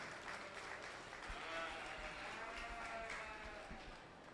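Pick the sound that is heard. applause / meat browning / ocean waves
applause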